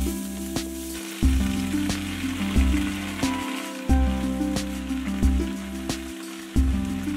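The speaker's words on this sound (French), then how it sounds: "Vous les faites revenir à la poêle avec l'oignon" Spinach and onion fry in a pan with a steady close sizzle, stirred with a few soft scrapes and taps, continuous and fairly loud with no talking.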